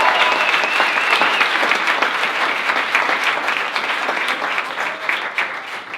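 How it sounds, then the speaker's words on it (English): An event audience at a Pittsburgh brand battle round claps for the participants, a continuous, fairly loud wash of applause that holds steady and tapers off slightly toward the end. "Let's a round of applause for everyone."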